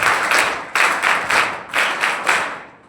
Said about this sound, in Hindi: बड़ी ताली करो।